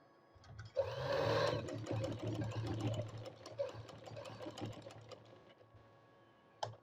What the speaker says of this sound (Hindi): और इसके किनारे पे हम सिलाई लगाएंगे।